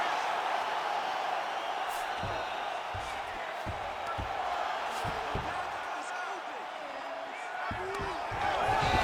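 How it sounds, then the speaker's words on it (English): An arena crowd in EA Sports UFC 5 roars and cheers during a jiu-jitsu versus judo career fight, a steady wash of loud cheering with scattered thuds underneath while commentators talk over it. "Crowd goes crazy as she reverses the position."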